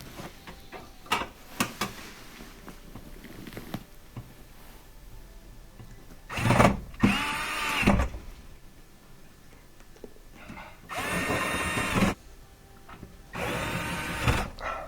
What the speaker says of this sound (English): I'll add, I think it's six or 8 screws that hold that in, Phillips head screws.